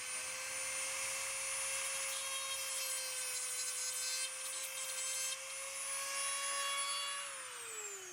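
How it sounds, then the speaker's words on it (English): Dremel rotary tool with a cut-off wheel cutting through a frayed cable on a 3rd generation Honda Odyssey, a high steady whine with grinding overtones that holds level and then drops in pitch as the tool slows. "I'm using a Dremel with a cut-off wheel."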